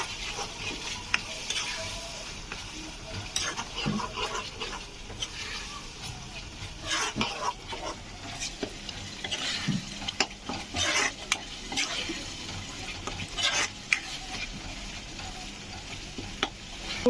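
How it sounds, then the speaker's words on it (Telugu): Tomato juice being stirred into a sizzling pan of stuffed brinjal curry, with repeated scraping and clinking of a spoon against the pan over a steady fry, close by, with faint talk at times. "టమోటో జ్యూస్ ఇందులో యాడ్ చేస్తున్నాను బాగా మిక్స్ చేయాలి"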